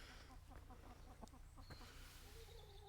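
A rooster in a deep-litter chicken pen gives a run of short, rhythmic clucks at close range, with a few sharper calls scattered through and a steady low hum beneath.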